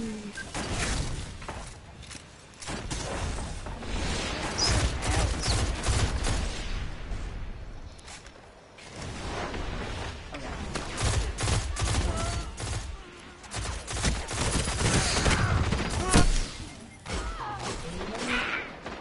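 Rapid shotgun blasts and other gunfire in an online multiplayer shooter game, loud and nearly continuous over about nineteen seconds, with crashes and dense bursts overlapping and a faint voice now and then.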